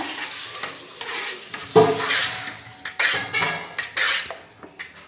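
Rice batter stirred in a pot for rice vathal, a ladle scraping and knocking against the metal in uneven strokes over a soft bubbling sizzle, close and fairly loud, no voices.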